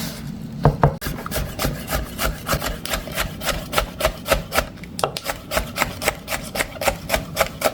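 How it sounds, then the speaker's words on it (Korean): Knife slicing a halved, deseeded red chili thinly on the bias against a wooden cutting board, with a steady run of quick, close, crisp taps and a few scraping rubs, no voices. "반 갈라서 씨를 빼고 얄팍하게 어슷 썰어요."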